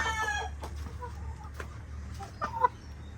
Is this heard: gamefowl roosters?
yes